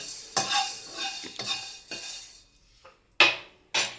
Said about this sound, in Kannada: ಇದನ್ನು ಚೆನ್ನಾಗಿ ಫ್ರೈ ಮಾಡ್ಕೊಳ್ಳೋಣ.